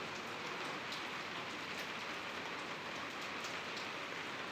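Heavy monsoon rain pours down steadily, a dense, unbroken hiss of countless drops striking surfaces, loud and even throughout, with no voices.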